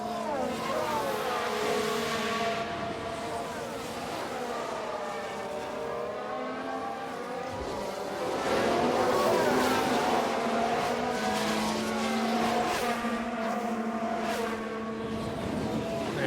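Formula 1 race cars in F1 Manager 2022 howl around the Montreal circuit, with layered high engine whines sliding in pitch as cars overtake, loud and steady throughout. A faint voice comes through under the engines.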